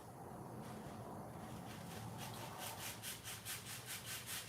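Hand sanding with 180 grit sandpaper on a paint stick, a soft scratchy rasp that starts muffled and settles into quick rhythmic back-and-forth strokes, close and fairly quiet against room noise.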